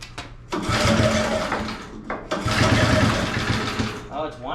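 A lawnmower engine runs and is throttled up twice, revving in two loud surges with a short dip between them, then dropping back toward an idle.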